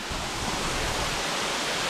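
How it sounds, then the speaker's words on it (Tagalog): Balagbag Falls in Real, Quezon, a waterfall still flowing strongly, heard as a loud, constant broadband rush of falling water close by, with no voices over it. "So ito ang Balagbag Falls."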